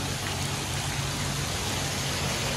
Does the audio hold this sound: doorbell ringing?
no